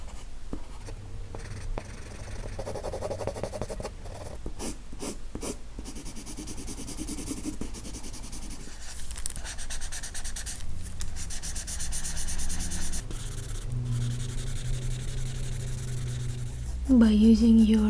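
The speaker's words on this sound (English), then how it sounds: "I'm going to go all full on with this pencil as dark as I can" A graphite pencil shades hard and dark on paper in close, scratchy back-and-forth strokes with brief pauses, and soft breathing or murmurs sit in the background.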